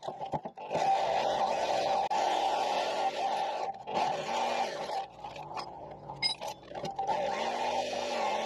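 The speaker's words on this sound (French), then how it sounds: "Je vais le découper à la scie électrique." An electric saw runs steadily while cutting out a rear axle silent block on a car, a sustained buzzing whine with brief pauses and shifts in load.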